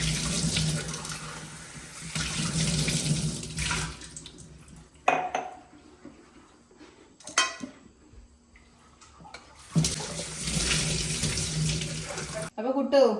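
A tap runs into a sink while a Nescafe glass bottle is washed at home, in loud bursts of splashing water broken by quieter gaps with clinks of glass and dishes and brief talk.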